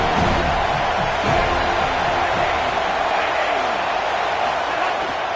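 Broad crowd roar fills a football stadium in a video game, a steady wash of noise with faint cheering, under a commentator's voice.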